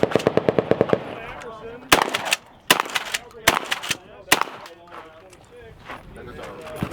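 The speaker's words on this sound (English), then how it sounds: "Want to see it shoot? Go for it." A suppressed Aklys Defense bullpup shotgun with an 870-length barrel fires a rapid string of about eight shots, then four more spaced, punchy reports, each followed by a brief echo and faint background voices.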